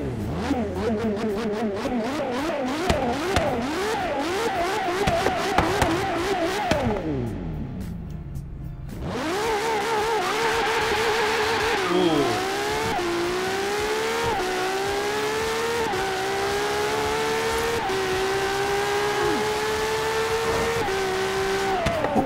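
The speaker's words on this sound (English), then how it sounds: "you're listening to the magnificent engine of LaFerrari" LaFerrari supercar engine in Forza Horizon 3, revving and accelerating loudly through rising and falling gear sweeps, with a brief quiet dip before the engine roars back and holds a steady high-pitched howl.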